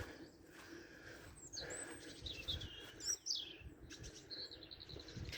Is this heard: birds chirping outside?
yes